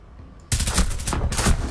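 Rapid bursts of gunfire in Rainbow Six Siege erupt after a brief quiet moment, loud and close, with a short break before another burst.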